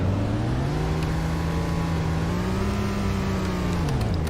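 A 2013 Ford Explorer police car reverses with a steady low engine hum, the idle drone rising slightly and then easing off, close and continuous with no talking.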